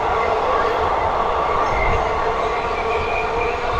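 A train rumbles past close by in a loud, continuous roar, with rolling wheel noise and a faint rattle on the rails that holds steady throughout.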